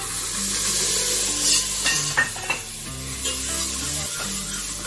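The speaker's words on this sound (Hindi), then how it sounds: "अब हम इसमें करेंगे अपनी वेजिटेबल्स ऐड" Vegetables such as peas, tomato, carrot and pumpkin added to a hot pan for pav bhaji, with steady sizzling under scraping stirs and a few clinks of the spoon against the pan.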